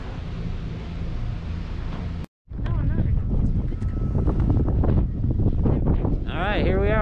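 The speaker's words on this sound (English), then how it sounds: "It's pretty snowy and blustery out, but nice day to be out." Blustery wind buffeting a microphone on a snowy ski slope, a loud continuous roar with a brief dropout, while a person talks over it.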